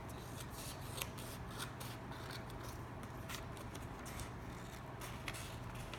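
Scissors cut through folded paper for a paper helicopter, a faint series of crisp snipping and rustling sounds repeating steadily over soft background hiss.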